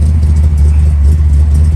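A 1965 Ford Mustang's engine idles steadily with a deep, low rumble, close and continuous, with no talk over it.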